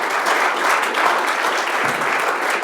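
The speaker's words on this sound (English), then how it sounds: "Let's give a round of applause to Omer." A seminar audience gives a round of applause at the close of a masterclass talk on software testing, a steady, dense wash of many hands clapping that holds at an even loudness throughout.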